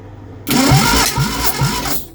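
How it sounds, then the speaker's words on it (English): A Reliant Regal Supervan 3 engine is cranked over on jump leads, with about three rhythmic turning strokes in one loud, close burst before cutting out. "we're going to try and spin it over with these jump leads"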